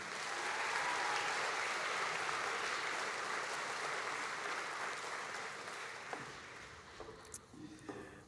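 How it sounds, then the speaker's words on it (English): A graduation crowd at a Melbourne Polytechnic ceremony applauds its human services and education graduates with steady, full clapping that holds strong for several seconds before tapering off with a few scattered late claps. "Let's give a warm round of applause for all of our Vet Human Services and Education graduates"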